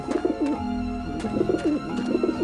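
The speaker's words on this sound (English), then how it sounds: "I don't like the looks of those pigeons." Pigeons in Grim Fandango coo in repeated throaty, warbling calls, several overlapping close together in a steady rhythm, with no talk over them.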